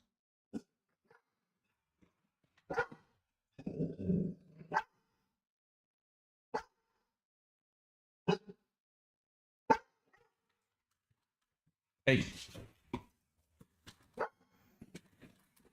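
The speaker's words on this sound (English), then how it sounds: "The neighborhood dogs woke up and felt they needed a conversation." Neighborhood dogs barking in short, scattered single barks and brief clusters, fairly distant and faint against near silence, with one brief spoken word.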